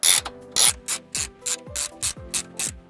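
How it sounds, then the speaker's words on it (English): Socket wrench ratchet working on a sway bar link nut of a 2010 Ford Mustang S197, about eight quick, evenly spaced clicking strokes up close, with no talking. "we're going to hold it in place with the 8mm small socket"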